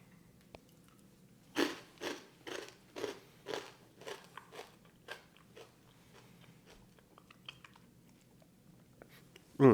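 Crunchy bacon fat croutons with garlic and fresh herbs are bitten and chewed up close, a series of sharp, crackling crunches that come quickly at first and then grow softer and sparser.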